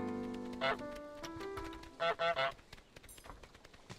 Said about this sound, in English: slows him down every time we honk